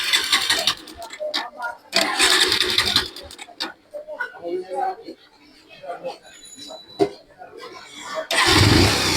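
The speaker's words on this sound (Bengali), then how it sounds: "দেখেন আমি মোটরসাইকেল দিয়ে স্টার্ট করতেছি।" A motorcycle engine is kicked over and started without its spark plug on a roadside, giving bursts of loud, raspy engine noise with pauses between attempts and a strong final burst, while people talk nearby.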